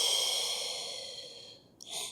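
A long steady breath pushed out through the mouth during a Pilates back stretch on a floor mat, airy and close, fading near the end before a short fresh intake of air.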